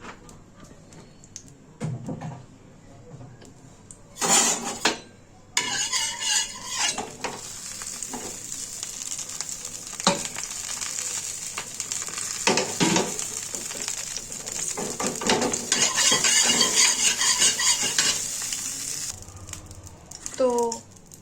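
Refined oil sizzling and frying in a pan, a steady crackling hiss that swells in louder bursts as food is stirred and batter added, with someone talking over it at times.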